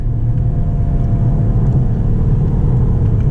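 A Mercedes-AMG GT 53 six-cylinder engine pulling hard toward redline, a loud, sustained low rumble and drone heard from inside the car, with no talk.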